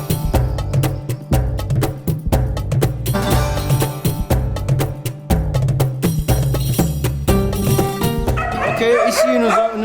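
Dogs bark and yip in the section of a shelter reserved for abandoned dogs, with a voice talking over them throughout.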